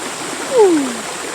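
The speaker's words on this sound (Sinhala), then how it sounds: "හරිම දැන් වතුර සද්ද ඇහෙද්දි වතුර දිහා බලාගෙන ඉද්දි" A small stream below a garden at a rural home place runs with a steady broadband rush of flowing water, close and continuous, while a brief whistle-like tone rises briefly over it.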